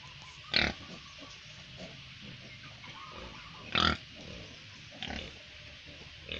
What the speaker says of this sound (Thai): หมูน้อยมันห่อนครับ